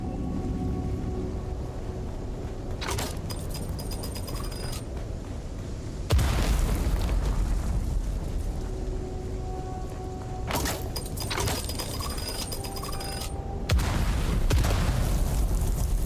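Grenades going off in the video game Dune: Awakening, several loud booming blasts with sharp onsets and rumbling decay, spaced seconds apart over a steady background hum.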